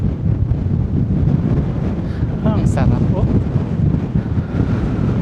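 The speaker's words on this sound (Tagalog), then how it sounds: "Labas masok po yung hangin dito." Strong wind gusting through steel matting on an open rooftop in bright sun, a steady loud rush with mic buffeting throughout, a person speaking briefly in the middle.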